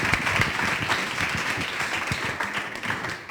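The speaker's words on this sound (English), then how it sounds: "Jad, big round of applause for this guy." An audience at a FuckUp Nights event in Beirut applauds steadily for an incoming speaker, a dense wash of clapping held at an even level throughout with a few voices mixed in.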